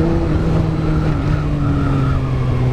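A Honda CRF motorcycle ridden along, its engine a steady, loud drone with a sustained tonal hum throughout, close and continuous with no talk.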